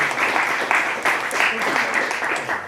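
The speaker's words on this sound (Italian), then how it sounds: "gli farei un applauso" A crowd applauds in a dense, steady patter of clapping from an audience, filling the room throughout.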